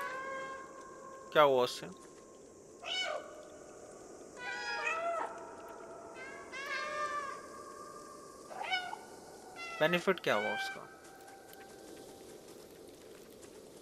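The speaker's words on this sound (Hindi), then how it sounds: "जिन लोगों को कैट के साउंड पसंद है उनके लिए काफी सूदिंग होगी ये चीज" In the video game Stray, a cat meows six or so times, close and clear, with some cries drawn out and others short, over a quiet background while someone talks in between.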